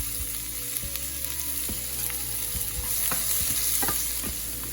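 Onions sautéed with garlic and a little salt in a pan for a Chettinadu-style asparagus fry: a steady, close sizzle broken by repeated spatula scrapes and clicks, with no talking.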